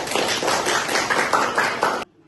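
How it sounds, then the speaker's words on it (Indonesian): An audience claps together in a classroom lecture setting, a steady dense patter of many hands for about two seconds that stops abruptly, with no voices over it. "Tepuk tangan untuk Sakiti"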